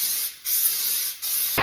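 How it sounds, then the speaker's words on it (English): Cooking spray misted into a pan in a kitchen, three short close hissing bursts in quick succession, with no talk. "we're going to spray the pan."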